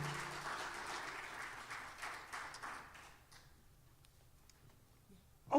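Audience applause for young delegates at a Miss Juneteenth Nevada scholarship pageant, a broad clapping wash that fades after about three seconds and leaves faint room noise.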